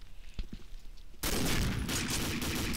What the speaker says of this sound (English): Nice little sniper kill.